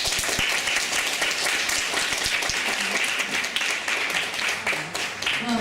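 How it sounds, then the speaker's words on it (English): An audience at a library digital scholarship symposium claps after a talk, a loud, continuous burst of many hands that stays even throughout, heard alone without speech. "And this is the point when you clap."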